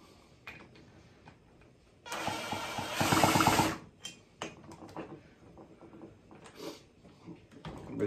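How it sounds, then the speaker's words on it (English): An impact wrench on the clutch nut turns over a McCulloch mini Mac chainsaw engine in a short, loud rattling burst of under two seconds, set among quieter clicks and handling noises. "we'll just turn it over with my impact here and just have a look"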